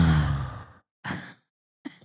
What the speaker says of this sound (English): Look at her yawning again.